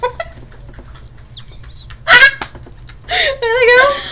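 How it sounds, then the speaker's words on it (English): Loud hiccups from a woman, sharp abrupt squeaky bursts that sound almost like a clucking hen, two strong ones separated by quiet moments with faint background noise. "These are my hiccups."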